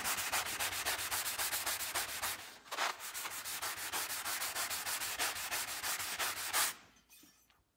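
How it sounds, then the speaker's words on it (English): A Samson block plane is buffed back and forth on a flat surface, giving steady, close rasping strokes in a quick even rhythm, with one brief pause and a tapering finish. "It's more for buffing."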